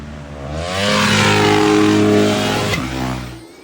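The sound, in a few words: 450 combustion motocross bike revving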